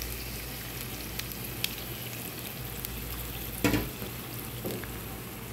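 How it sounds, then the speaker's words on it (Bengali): Three beaten eggs fry with lightly browned onions in a pan. A steady, soft sizzle runs throughout, with a sharper clatter partway through as the pan is worked. "এখন এই ডিমটা আমি পেঁয়াজের সাথে ভালো করে ভেজে নেব।"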